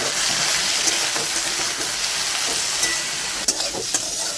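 Cauliflower stalks fry in hot oil with a steady, dense sizzle and crackle that stays loud and constant, with a few faint pops and no talking.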